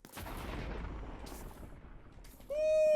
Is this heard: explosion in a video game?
yes